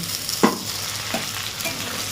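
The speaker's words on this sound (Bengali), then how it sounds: "এর মধ্যে এবার আলুটা দিয়ে ভেজে নেব" Potatoes frying in hot oil for a pointed gourd and prawn dish, with a steady close sizzle and one brief clack of a spoon or pan early on; no voices.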